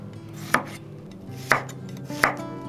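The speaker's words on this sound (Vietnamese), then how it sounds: "Mình dùng 35g tỏi cắt lát ra để ngâm tay heo ha." A kitchen knife slices about 35 g of garlic for a pork-pickling brine: three sharp, close chops on a cutting board at an uneven pace, over a low steady background hum.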